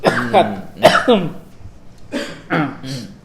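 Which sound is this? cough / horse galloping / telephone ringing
cough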